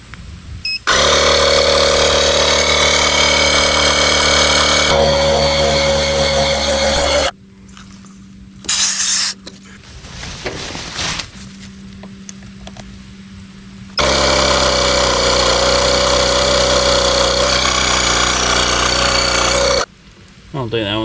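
Loud air compressor running in long steady bursts with short pauses between, used to inflate the flat tires of a 1987 Honda mower left in the weeds for years.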